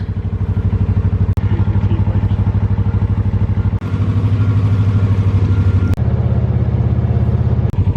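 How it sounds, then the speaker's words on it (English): A motorcycle engine runs close by with a loud, steady, throbbing pulse, holding a constant mid-pitched drone with a few brief clicks and shifts. "That's our friend Charlie on his bike."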